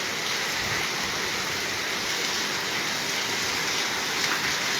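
First monsoon rain falls on a Malwa village in Punjab, a steady, even hiss of downpour with a fine crackle of drops, fairly quiet and unbroken throughout.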